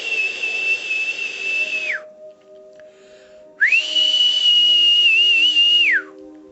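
Two long, steady whistled tones, each held for about two seconds and sliding down at the end, separated by a short pause with a soft hum beneath.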